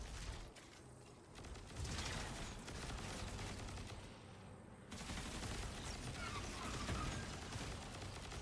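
Sustained gunfire from a Destiny 2 firefight, dense and continuous with a short lull near the middle before the shooting resumes at full intensity, no talk over it.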